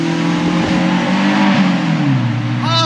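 A Mini Cooper R56 engine holds high revs inside a tunnel, a loud droning roar that echoes and drops in pitch near the end as the revs fall, with no talking.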